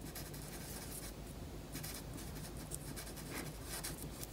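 A pen or marker scratches steadily across paper cards, writing words in continuous soft strokes, close and quiet with faint background hiss and no talking.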